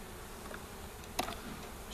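Honey bees buzzing during a hive inspection of a swarmed hive in February, a faint, steady insect hum with a brief louder rustle midway, no talking.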